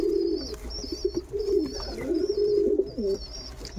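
A pigeon sitting by its two eggs gives repeated low, throaty coos at close range, in uneven bursts, while thin, high chirps come and go in the background.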